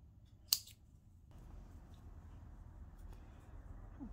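Scissors cutting bias binding straps for a maxi dress, one sharp close snip early on, followed by a quiet low room hum.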